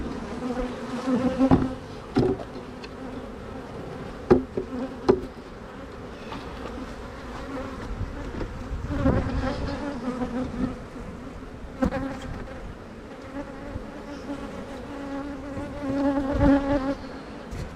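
Honey bees buzz steadily around beehives, a dense droning hum that swells and fades as individual bees pass close by, with no talking.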